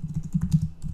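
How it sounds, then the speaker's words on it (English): Rapid keystrokes on a computer keyboard form a quick, close, uneven burst of clicks with no talk over them. "forgive my poor typing skills"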